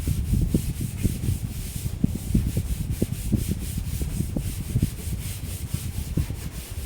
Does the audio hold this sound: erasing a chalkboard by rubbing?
yes